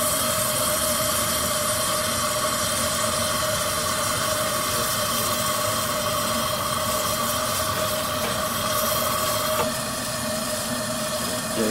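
A Shay locomotive, hand-built by Harold Allen around 1960, runs with a steady, continuous engine rumble and mechanical hum, close and unbroken throughout, with no voices.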